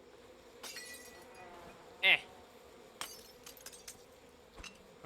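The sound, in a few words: glass bottle shattering in video game We Happy Few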